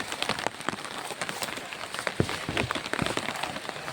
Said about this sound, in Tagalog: Ulan na eh. Hindi tumitila mga tol.